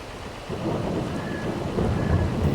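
Rain and thunder from Farming Simulator 22: a steady rain hiss with low rumbling thunder rolling underneath, constant and moderately loud throughout, with no voices.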